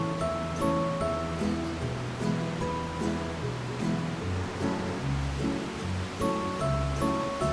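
The Kamenice river flows in a continuous, loud rush of water. Sustained musical tones sound throughout, and no one speaks.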